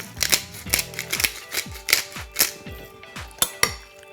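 A marinade of soy sauce, sesame oil, garlic and black pepper mixed in a bowl, giving a steady run of about a dozen sharp, clinking taps of a utensil against the dish, close and distinct.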